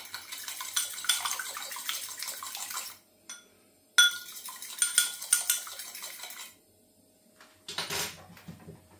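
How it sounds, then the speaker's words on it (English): An egg gets whisked in a bowl with quick metallic clinks and scraping bursts, broken by two short pauses, close and fairly loud, with no voices. "I'm going to whisk this egg."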